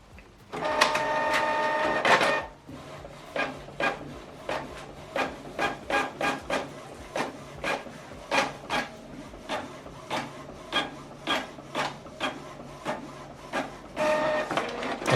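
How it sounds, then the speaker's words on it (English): A Canon Pixma inkjet printer runs a print job from the front tray, opening with a sustained whir of feed, then a long series of regular mechanical strokes as the print head shuttles back and forth, ending with another steady feed whir. "Now this document is printing."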